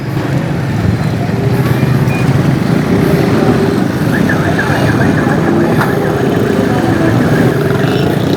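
Motorcycles pass steadily along Jahangir Road, a road under construction newly paved with paver blocks, making a continuous loud drone of engines and traffic noise with no clear breaks.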